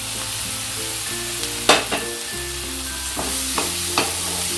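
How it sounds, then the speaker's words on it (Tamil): Tomatoes sauté in a pan for masala macaroni, a continuous even sizzle with a few quick stirring clicks and scrapes scattered across it. "இப்போ தக்காளி போட்டுக்கலாங்க."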